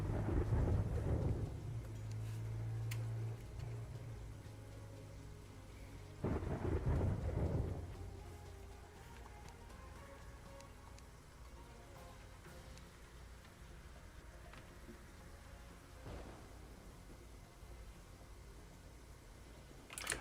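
Rain and thunder sound in the game Terraria, with steady rainfall throughout and two deep thunder rumbles near the start and middle, fading to a quieter rain hiss.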